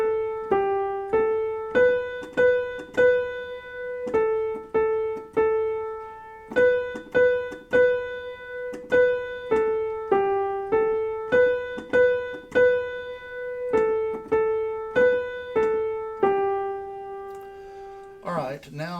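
Mary Had a Little Lamb played as a plain children's tune moving only in whole steps, a steady run of separate, evenly struck notes that ring briefly, with a short rustle at the close.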